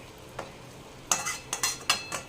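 Jaggery melts in a pan for sesame laddoos while a spoon stirs and scrapes it in a few short, close strokes over a soft background hiss.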